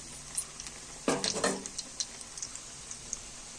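Masala vada batter drops into hot oil with a short burst of sizzling and bubbling, then fades to faint crackles and small pops from the frying fritters, heard close with no talking.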